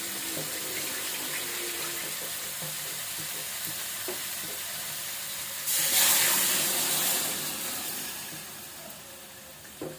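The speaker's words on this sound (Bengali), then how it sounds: "একটু ঝোলের পানি দিয়ে দিই" Water splashes into a hot pan of curry with rohu fish and coriander leaves, a loud burst of hissing and sizzling over a background of frying and stirring, then settling down.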